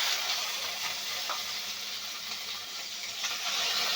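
Mango pieces frying with panch phoron in a pan give a dense, steady sizzle that stays close and loud throughout, with faint stirring underneath.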